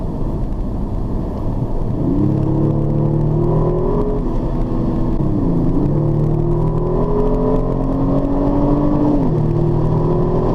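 A Kia Stinger accelerates in a few pulls, its engine note climbing, dropping at a gearshift and rising again under steady road and cabin rumble, loud and close throughout with no talking.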